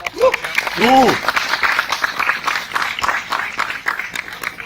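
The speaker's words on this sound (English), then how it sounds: "A big round of applause for Harley Davidson." Audience applause at a Harley-Davidson motorcycle meetup in Kolkata, a steady wash of clapping for several seconds with a voice briefly heard near the start.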